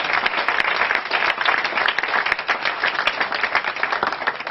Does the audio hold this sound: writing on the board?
no